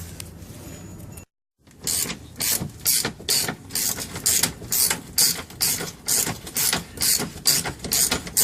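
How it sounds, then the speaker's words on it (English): A hand ratchet turns a bolt on the rear suspension of a 1991–1993 Ford Fairlane, clicking close and clear in quick rhythmic bursts after a brief silent pause, with no talking. "When you break the seal, basically, when you got it spinning, you can use a ratchet."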